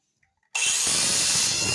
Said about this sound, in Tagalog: Meron na tayong grinder na dito.